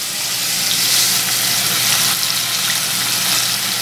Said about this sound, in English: And we fry them until they're golden brown